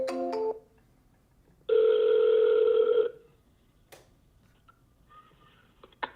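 A telephone ringback tone sounds once after dialing, a steady two-tone ring lasting about a second and a half, with a short chirp of a keypad tone at the start and faint electronic beeps near the end.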